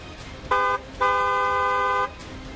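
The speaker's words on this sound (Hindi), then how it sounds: "हॉर्न बजाएं।" Two car horn honks, a short blast followed by a longer sustained one, loud and close over light background noise.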